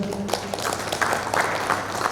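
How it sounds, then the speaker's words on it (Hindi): A gathered audience at a doctors' program event in Hyderabad gives a short round of applause, a soft, steady patter of many hands clapping at moderate distance, with no talking. "एक जोरदार वेलकम देंगे सब लोग ताली बजा के"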